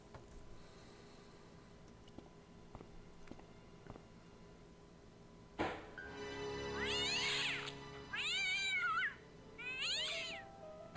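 Cats in the Broken Sword: Shadow of the Templars Director's Cut point-and-click game, three loud, drawn-out wailing meows in quick succession after quiet ambience and a few soft clicks, no talk.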